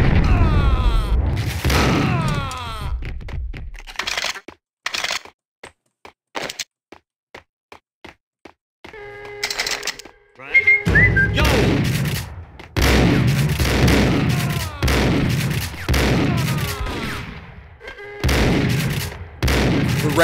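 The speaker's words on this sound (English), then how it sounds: "The range on the shotgun's pretty ridiculous, too." Shotgun blasts in the Max Payne video game, loud repeated booms in dense bursts with a quieter stretch of evenly spaced shots partway through, mixed with game effects.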